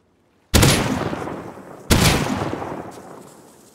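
Two sharp, loud blasts from an M4 shotgun loaded with 12 gauge buckshot in the game Rust, about 1.4 seconds apart, each followed by a long decaying echo.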